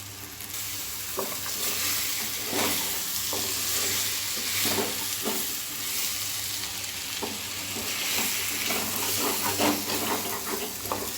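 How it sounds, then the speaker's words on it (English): Pumpkin, peas and tomato sauté in a pan for a pumpkin and potato sabji, giving a steady close sizzle broken by repeated scraping, stirring strokes, with no talking. "So nicely mix them and saute for 2 minutes more"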